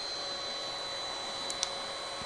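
An IPL hair removal device switched on and running, giving a steady fan-like whir with a thin high whine, close and even, with a couple of faint clicks near the end.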